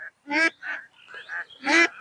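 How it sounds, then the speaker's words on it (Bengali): Several ducks on a duck farm quack and honk in short, loud bursts close by, one call after another with brief pauses between. "আপনার পিছনে অনেকগুলো হাঁস"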